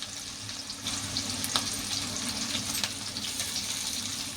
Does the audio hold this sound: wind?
no